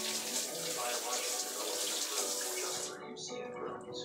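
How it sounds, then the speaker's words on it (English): Water runs steadily from a kitchen tap as a spoon is rinsed under it, a continuous close splashing hiss that stops abruptly near the end, followed by faint kitchen noises. "Rinse it off."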